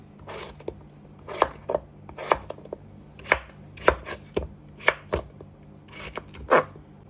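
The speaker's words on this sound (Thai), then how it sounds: "จะหั่นมันฝรั่งเป็นชิ้นๆก่อนเนาะ" A knife chops potatoes into pieces sharply against a cutting board, about a dozen distinct hits at an uneven, unhurried rhythm, close and clear with no talking.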